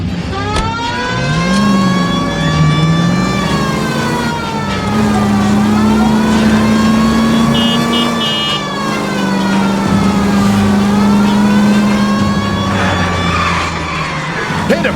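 A car in the video game L.A. Noire drives hard and accelerates, its engine tone rising and falling steadily over fifteen seconds alongside a wailing siren and tire noise, loud and continuous.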